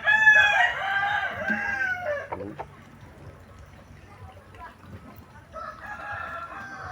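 A rooster crows loudly and close by, followed by quieter clucking and rustling of chickens, then another crow starting near the end.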